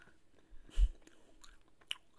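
Someone chewing Cup Noodles Mexican gum in tiny pieces: a few soft, close mouth crunches and wet chews over about two seconds, otherwise quiet.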